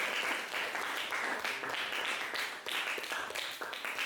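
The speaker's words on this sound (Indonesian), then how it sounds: "tepuk tangan buat kelompok." A classroom of students clapping for a student group, brisk uneven hand claps in rolling bursts that swell and dip, fairly close and moderately loud, no voices heard.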